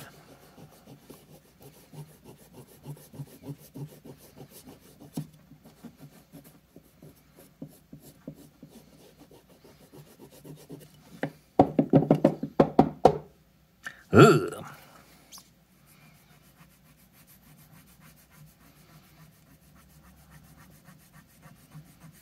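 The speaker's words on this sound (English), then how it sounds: "So we'll take our eraser." A rubber eraser scrubs the contacts of a loose NES cartridge, giving soft, close rhythmic rubbing that builds into louder bursts of scraping near the end.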